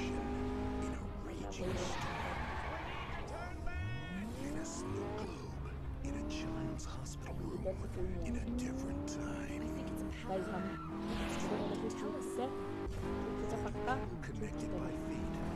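A car in a Las Vegas gangster video game revs and drives off with squealing, skidding tires, engine pitch climbing and falling while someone talks over it throughout.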